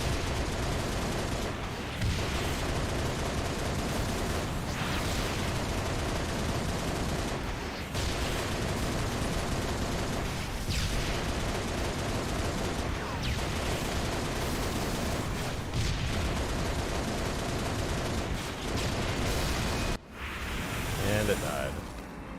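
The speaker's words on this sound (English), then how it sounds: "I can use it to blow up the Pelican." Pelican dropship blown up in the game Halo Reach amid sustained heavy gunfire, with repeated loud bursts and booming blasts, ending in a sharp explosion followed by lingering debris noise.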